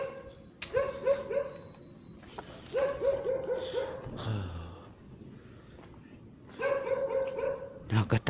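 Dog barking in quick repeated runs, three clusters of rapid barks separated by short pauses, fairly close and over a noisy background.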